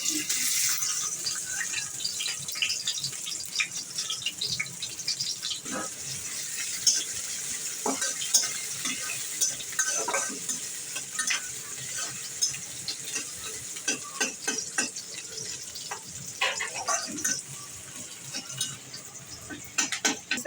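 Onions hiss and crackle in hot oil in a kadai while noodles are being cooked, with a steady sizzle throughout and repeated scraping strokes as the pan is stirred up close.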